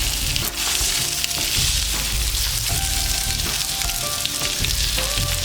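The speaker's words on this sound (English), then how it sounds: "let's get our delicious sausage patties going here" Sausage patties sizzle and crackle steadily in a hot pan for a breakfast sandwich, a dense continuous frying hiss with small pops throughout and no talking.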